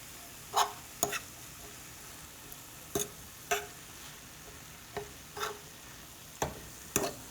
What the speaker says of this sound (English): Trying not to make so much noise with my fork